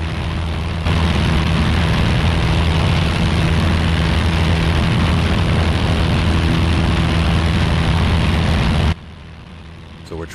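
A Piper Archer single-engine propeller plane takes off from runway 29, its engine droning loud and steady at full power from inside the cabin throughout, then cutting sharply quieter near the end.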